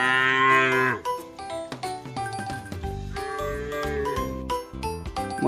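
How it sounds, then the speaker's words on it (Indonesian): A cow lowing repeatedly in a farm setting, several long resonant moos in sequence, close and fairly loud, with faint tinkling like a bell in between and no talk. "Wow, ini sapi."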